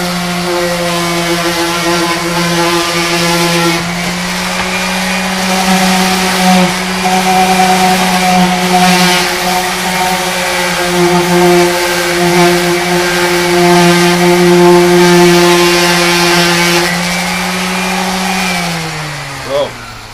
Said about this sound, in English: The palm sander we're just using to round the edges